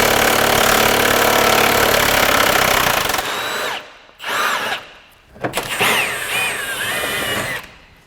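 A power tool loosening the upper shock mount on a Honda Pilot during rear suspension work runs loud and steady, then breaks into short bursts separated by pauses.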